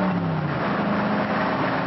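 A 1966 Corvette roars at speed, its engine note loud and steady close by with a continuous rushing drone and no talking.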